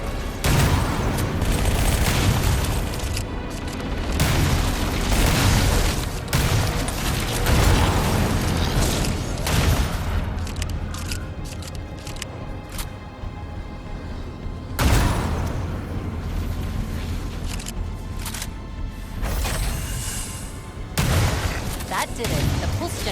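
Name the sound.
pulse generator overloading and exploding in Halo video game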